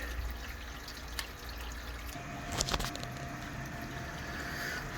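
A scotch ale grain mash is stirred in its water, giving wet sloshing and swirling with a couple of brief knocks against the vessel, close and steady, with no voices.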